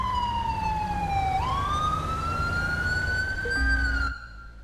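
A police car siren in GTA V with the LSPDFR mod wails continuously, its pitch dipping and then rising again, loud and close, before cutting off abruptly near the end.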